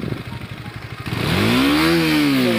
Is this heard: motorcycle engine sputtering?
yes